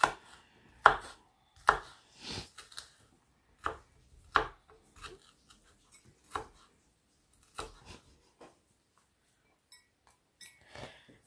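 A knife chops through an onion on a cutting board in a home kitchen, a series of sharp, close knocks in irregular bursts with short quiet gaps between them, and no talking.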